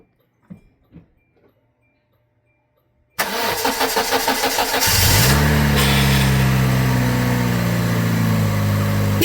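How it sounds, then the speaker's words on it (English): A 51,000-mile Hyundai Tiburon is started after a timing belt job and full tune-up: a few faint clicks and quiet, then the starter cranks briefly before the engine catches and settles into a loud, steady idle. "Fires right up. Sounds good."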